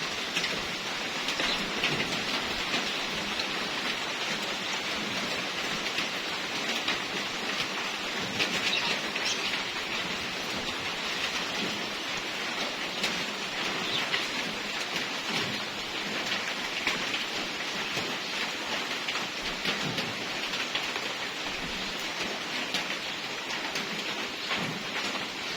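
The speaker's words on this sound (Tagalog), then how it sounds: "And it's raining again." Steady rain falls on a Saturday, a dense, continuous hiss of drops hitting surfaces that holds an even level throughout, with no voices.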